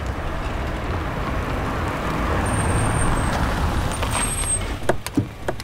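A car slowing and drawing over to the roadside on a busy road, steady broadband road rumble with passing traffic, a faint high brake squeal midway, then a few thumps and clicks as it settles to a stop.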